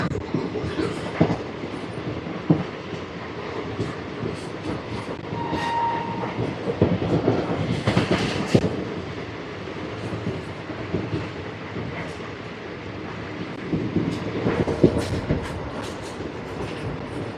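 The 12457 Bikaner Superfast Express runs from Delhi to Bikaner, its wheels clattering steadily with rhythmic clickety-clack and louder rumbling bursts as the coaches rock along at speed.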